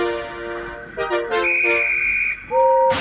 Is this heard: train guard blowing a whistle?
yes